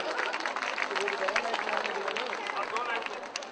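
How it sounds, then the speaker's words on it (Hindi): Audience applause at a comedy show during an Independence Day celebration, a steady dense wash of clapping and crowd murmur lasting throughout, fairly distant and even, with no clear pauses. "तालियां बजाइए मुझे।"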